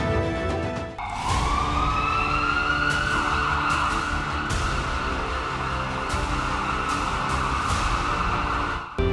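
An ambulance siren, from India's 102 emergency ambulance service, starts abruptly and then holds a loud, steady wail close by, with traffic noise underneath and no voices.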